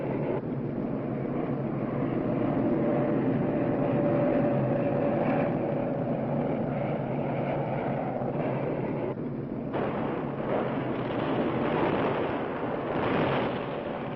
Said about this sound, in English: And then there are the B-52 bombers striking from nearby Thailand.